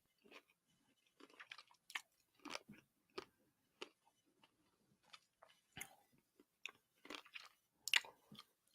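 Someone chewing a snack close to the mic, a scattered series of soft crunches and wet bites at an irregular pace over a quiet background.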